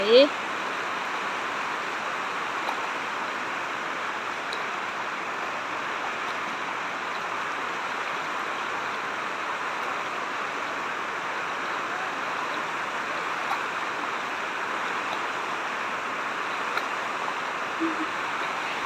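Water flows over a small overflow weir on a stream, a steady broadband rush that continues evenly and fairly close throughout.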